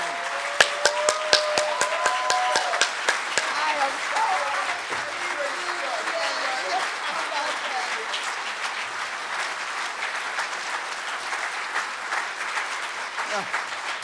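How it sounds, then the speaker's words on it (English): Lecture hall audience applauds in welcome of Reverend Dr. C.T. Vivian, starting with sharp distinct claps and swelling into sustained, dense applause that continues with scattered cheers, a voice briefly heard near the start. "Let's give him another warm welcome of applause and welcome the Reverend Dr. CT Vivian."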